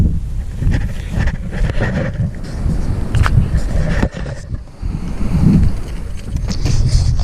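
A vintage Hydra mac mini bike's two-stroke engine runs at a high idle, a steady loud buzzing drone that stays on for the whole stretch, roughened by wind noise on the microphone.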